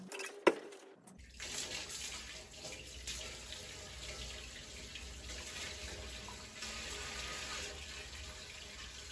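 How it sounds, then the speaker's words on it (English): A toilet being flushed after being refilled by bucket, in a home where a gas water heater is being removed; a sharp clunk of the handle, then steady rushing, gurgling water running close by for several seconds, with no talk. "we're gonna go ahead and flush this toilet"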